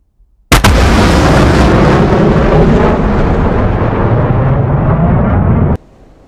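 CBU-97 cluster bomb submunitions detonate over a column of vehicles, a sudden loud blast that swells into a sustained roaring, crackling rumble lasting about five seconds before cutting off abruptly.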